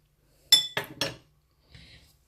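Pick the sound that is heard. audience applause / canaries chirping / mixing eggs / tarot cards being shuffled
mixing eggs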